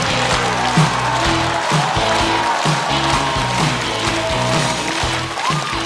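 Studio audience clapping and cheering to welcome a stand-up comedian onto the stage at a Chinese comedy competition show, a steady dense roar of applause lasting throughout, with music layered underneath.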